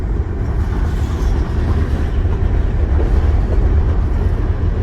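Empty freight train gondola cars rolling on the tracks across the Ohio River, heard as a loud, continuous low rumble and rattle from close by, steady throughout.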